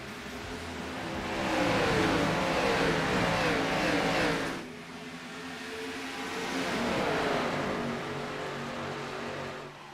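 Sim race cars in an SRU Xfinity Series league race roar together at the green-flag start, engines rising loud and close in two swelling waves of acceleration, with no talk over them.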